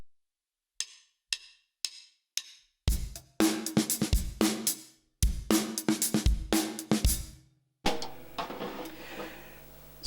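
A drum kit plays a groove in which the second bar leaves out beat 1 and comes back in on beat 2. A few sparse hits lead into dense, punchy full-kit playing with crashes, moderately loud, no voices.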